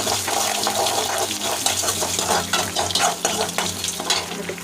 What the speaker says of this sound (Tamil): அப்புறம் வெங்காயத்தை போடணும். கொஞ்சம் நேரம் வதக்கணும்.